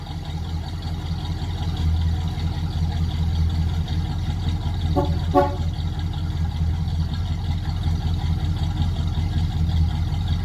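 A car engine sits at warm idle in park, its exhaust running through an aftermarket muffler in a comparison of Cherry Bomb Turbo, Flowmaster Delta 40 and straight pipe setups, giving a steady, even, moderately loud rumble with a brief click partway through.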